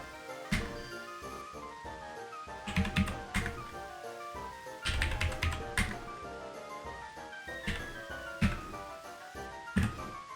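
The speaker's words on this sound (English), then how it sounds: "Can you guys hear the computer? Can you hear the clacking this time?" A computer keyboard clacks under steady typing, close and crisp, with bursts of rapid keystrokes separated by short pauses.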